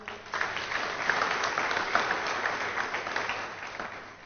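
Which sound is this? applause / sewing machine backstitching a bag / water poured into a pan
applause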